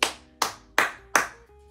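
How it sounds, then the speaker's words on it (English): Four sharp hand claps at an even pace, about one every 0.4 seconds, close and loud with a short ringing decay after each. "I'm on round of applause for real."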